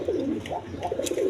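Silver pigeons at a farm coo in a brief, close run of low, bubbling rolling calls that rise and fall.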